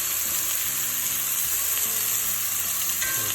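Venison steaks sear in a hot cast iron pan, giving a steady, close sizzle with light scraping as they are shifted around, and no one speaks.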